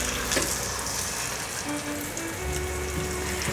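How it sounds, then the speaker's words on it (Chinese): Shredded-pumpkin patties fry in oil in a pan, giving a soft, steady crackling sizzle that runs throughout without talk. "把南瓜丝饼放进来煎"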